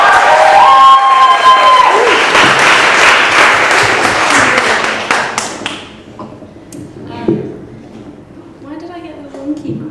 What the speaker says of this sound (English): can we have a massive round of applause for these guys for putting on this night